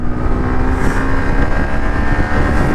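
A Yamaha R15 V3 motorcycle races along with its engine droning at high revs, loud and close, heavily buffeted by wind noise on the microphone.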